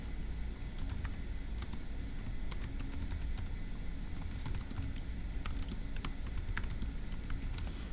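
Continuous rapid typing on a computer keyboard, a steady run of close, crisp key clicks with brief pauses over low background hum, no talking.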